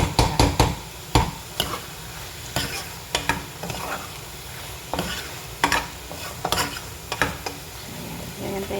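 Sauce frying in a pan while a utensil stirs it, with a soft steady sizzle under repeated scraping strokes that come in an uneven rhythm, close up and without talk.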